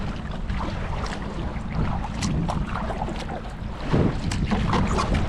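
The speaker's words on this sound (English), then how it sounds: "One of the boats is coming." A motorboat engine drones steadily over open water off Hong Kong, with wind buffeting the microphone and a slight swell in loudness as the boat draws near.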